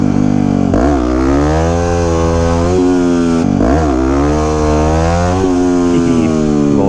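A 2009 Yamaha WR250X supermoto's single-cylinder engine, loud and close, revving up through rising pitch sweeps, dropping as gears shift, then climbing again in repeated surges with no talk.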